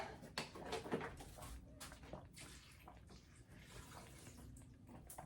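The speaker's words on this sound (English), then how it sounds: "next we need to add some water. And I'm going to add some spring water" Spring water pours and splashes into a pot for noodle soup, a close, uneven rush of water with a few brief taps and no voices.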